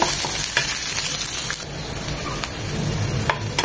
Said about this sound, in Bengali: পেঁয়াজ রসুন ভাজা ভাজা হয়ে গিয়েছে।